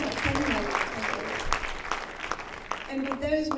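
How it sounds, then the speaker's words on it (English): Audience applause at the Mr DC 2022 pageant, a sustained wash of clapping with a host's voice breaking in over it near the start and again toward the end. "A big round of applause."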